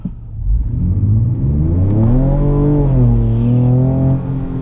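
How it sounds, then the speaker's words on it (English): A 2024 Ford Ranger Raptor accelerates hard in 2-wheel drive high with the exhaust in sport mode, its loud, continuous engine note climbing steadily in pitch through the gears toward 60, with no talking over it. "the exhaust is set on the sport mode"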